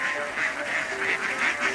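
Ducks quacking in a repeated, bursting rhythm at a moderate distance, with steady ambient noise beneath, recorded near the bamboo railroad in Battambang, Cambodia.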